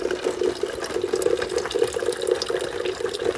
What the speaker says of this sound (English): I've got this valve turned on, and it's putting all the water down into the water brick.